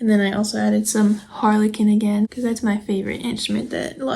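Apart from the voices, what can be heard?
No everyday noise stands out behind the speech.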